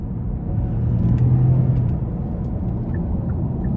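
A 2018 Genesis G80 5.0 V8, naturally aspirated, accelerating from inside the cabin, giving a steady, muffled low rumble that swells slightly midway and holds without talking.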